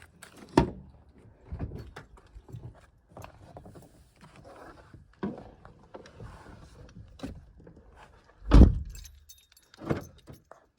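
Someone getting into a parked car at night in a quiet village while car camping: scattered clicks and rustles, keys jangling, and a loud door thud near the end followed by another knock, close and alone with no talk.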